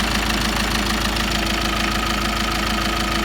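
Ford Mondeo Mk5 with a 2-litre Peugeot diesel engine, running with a broken timing chain, idles in a steady close-up drone with a rapid, regular knocking pulse throughout.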